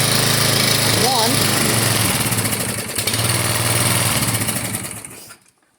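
Small gas-engine lawnmower running loud and close, a steady broadband engine drone with a brief pitch wobble, then cutting out abruptly near the end; voices are faintly present.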